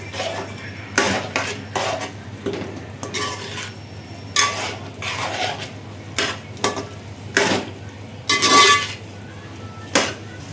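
Peas, carrots, green beans and cauliflower are sautéed in a pan for vegetable pulav: a steady low sizzle runs beneath repeated spoon scrapes and metallic clinks against the pan, coming in irregular bursts.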